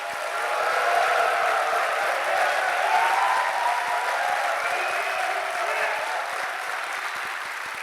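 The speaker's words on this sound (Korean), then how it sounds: "우리 김경수 본부장에게 다들 힘찬 격려의 박수 한번 부탁드립니다." Sustained, dense applause from an audience at a book-launch talk concert for Kim Kyung-soo, steady and loud throughout with a slight swell midway and a gentle fade near the end.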